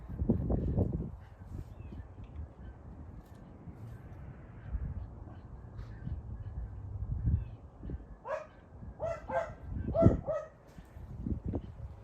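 Several dogs bark in short bursts at a distance at a nearby coyote, the barks coming in clusters over a low outdoor rumble.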